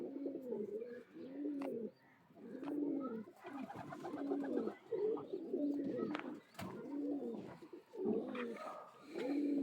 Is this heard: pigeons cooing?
yes